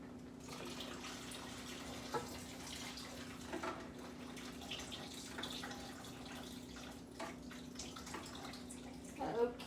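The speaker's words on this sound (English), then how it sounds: "I'm going to drain this water off without losing my beans." Water drains off beans held back by a paper plate, a steady soft trickle and splash running throughout and swelling slightly at the end, with no talking.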